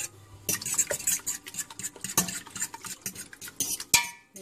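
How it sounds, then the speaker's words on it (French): Chicken pastilla filling with eggs mixed briskly with a fork in a warm pan, quick repeated scraping and clinking strokes over a light sizzle, close and fairly loud, no speech. "Et on va mélanger. Avec une fourchette, ce que vous voulez. Il faut surtout bien mélanger."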